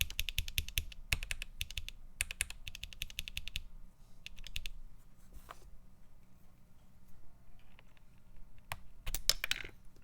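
Typing on a Keychron Q1 keyboard comes in quick clattering bursts of keystrokes separated by short pauses, fairly close and crisp, with a faint pingy ring behind the clicks.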